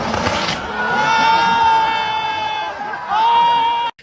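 Crowd noise at a Formula Drift Atlanta event after a pass, a loud continuous roar of cheering and whooping with a whistle-like tone sustained over it. It dips briefly midway, swells again, then cuts off abruptly.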